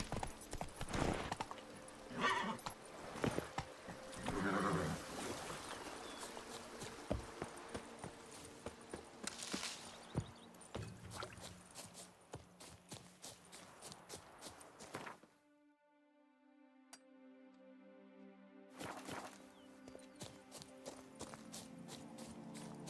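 The horse Roach gallops along roads in The Witcher 3, its hooves clip-clopping steadily under game noise, with a brief quieter gap before the hoofbeats resume.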